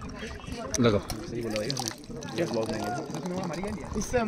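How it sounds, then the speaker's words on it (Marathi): Holy water is poured from a tap and collected in a pot in a queue at Tungnath temple, a high Himalayan Shiva shrine. It trickles and splashes close by under nearly constant talk. "आता इकडून जल घेतोय जे आपण शिवपिंडीवर अर्पण करणार आहे."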